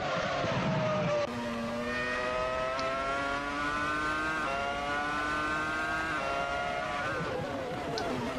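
Williams FW26 Formula One cars race in a simulator. High-pitched engines rise steadily through repeated upshifts in a long accelerating run, with a brief lower engine note at the start.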